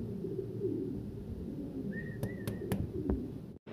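Modarna fancy pigeons, a pair kept for sale, give a faint brief coo over a low, busy background murmur. A few sharp clicks follow, with no speech.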